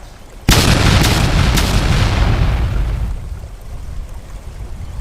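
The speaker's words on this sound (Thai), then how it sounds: "ก็ได้มี เสียงระเบิดดังขึ้นมาอย่างหนัก" A sudden, loud explosion booms and then rumbles on for several seconds, slowly fading into a low roar.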